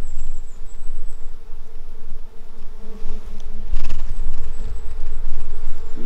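Wasps swarming out of a small ground nest after powder is puffed in, a steady close buzzing drone of many insects throughout, with a brief louder surge midway.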